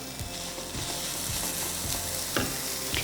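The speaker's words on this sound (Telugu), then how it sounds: "ఇప్పుడు మనం కాస్త ఇవి వేగనిద్దాం." Cashews and raisins frying in butter for an Indian sweet, a steady close sizzle and crackle with occasional louder pops and spoon stirring.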